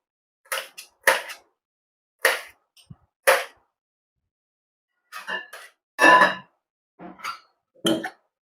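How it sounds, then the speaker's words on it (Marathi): Garlic cloves being chopped into pieces on a board, sharp isolated knife taps spaced irregularly with silence between, close and crisp. "लसणाचे पण आपण घेऊया तुकडे करून"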